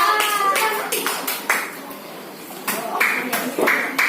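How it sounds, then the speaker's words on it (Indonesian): A small group claps in an Indonesian classroom to praise a student, giving short bursts of clapping in a loose rhythm between a teacher's talk. "tepuk tangan untuk Dava dulu."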